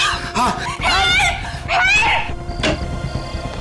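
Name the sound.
people screaming for help from a bungalow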